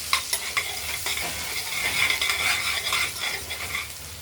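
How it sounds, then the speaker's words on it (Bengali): Potatoes fry with salt and a little turmeric in a pan. A continuous sizzle runs under repeated scraping and clinks from a utensil stirring against the metal, close by with no speech. "দেখতে থাকুন, ভাজা হতে থাকুক আলুগুলো"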